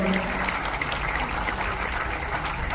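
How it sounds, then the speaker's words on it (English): Brief applause from an audience at a Philippine film's red carpet premiere, a steady patter of many hands clapping at moderate distance, fairly faint and even. "Round of applause."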